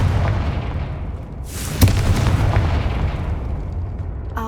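A Confringo fire spell explodes in the Hogwarts Legacy video game: one sharp, loud blast bursts out of a steady rumbling game ambience and fades quickly, with no talking.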